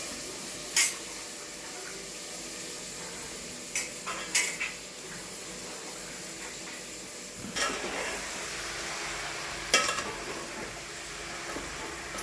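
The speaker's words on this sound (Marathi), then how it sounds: "सगळ्या भाज्या पटापटा धुतलेल्या भाज्या यात टाकून परतून घ्यायच्या" Washed mixed vegetables are tossed and stir-fried in a spiced masala, giving a soft sizzle with occasional scraping and clattering stirs, close and moderately quiet.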